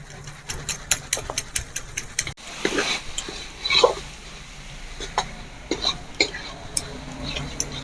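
Goat fat goes into spiced masala in a pan for a village-style ghugni, with a string of quick metallic taps, then a soft hiss and uneven stirring scrapes over a low frying sizzle, close by and moderately quiet.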